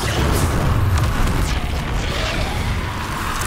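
A Confringo blasting spell explodes in the Hogwarts Legacy video game, giving a dense, continuous booming rumble with crashing bursts that stays loud throughout.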